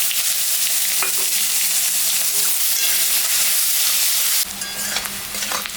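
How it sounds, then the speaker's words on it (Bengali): Chopped onion fries loudly in oil that was used for frying fish and tempered with chilli and cumin, a dense close sizzle with occasional stirring clinks, surging stronger near the end. "এখন আমি কাটা পেঁয়াজটা দিয়ে দিলাম"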